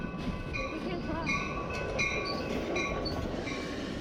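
A passenger train rolls steadily along its rails with a continuous rumbling clatter, faint metallic squeals rising and falling over the constant low roar, heard from inside or close by.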